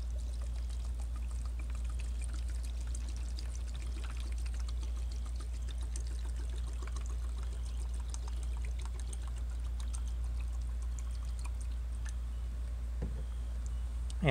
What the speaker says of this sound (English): put it in a Tupperware container, and then comes the hydrogen peroxide, and you just want to submerge it